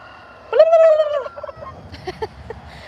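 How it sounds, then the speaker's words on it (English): A male Bourbon Red turkey on a homestead lets out one loud, close gobble, a rapid warbling burst, followed by a few short softer clucks. "That's our daddy turkey, and then there's the mama turkey. So we have two bourbon reds, a male and a female"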